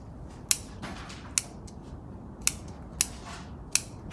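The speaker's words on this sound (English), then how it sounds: "I'll just use the ordinary root cutting scissors" Five sharp, crisp snips spaced unevenly over a few seconds, each a quick metallic cut of root cutting scissors through bonsai roots against a quiet background.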